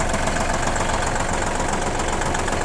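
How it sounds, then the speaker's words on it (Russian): A Kubota L1 185 compact diesel tractor engine idles steadily up close, its low, even chugging rumble continuous and unchanging throughout. "Соответственно, двигатель работает также ровненько и достаточно хорошо."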